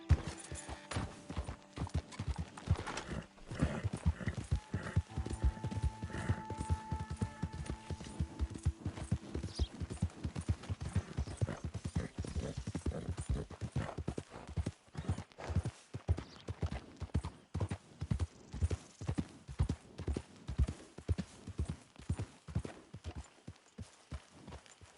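A horse gallops in Red Dead Redemption 2, steady rhythmic hoofbeats thudding close and even across the whole stretch, with faint background ambience underneath.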